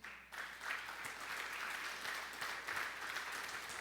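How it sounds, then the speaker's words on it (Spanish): Congregation in a church service applauds in praise, a sustained dense clapping that starts abruptly and continues steadily throughout at moderate distance. "¿No le da un aplauso de alabanza al Señor?"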